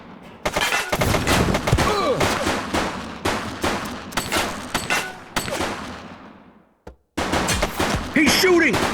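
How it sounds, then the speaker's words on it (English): Gunfire from a suspect in the police video game The Precinct, rapid bursts of loud shots and volleys crackling close by, with a brief pause before a fresh barrage, voices mixed in among the shooting. "He's shooting!"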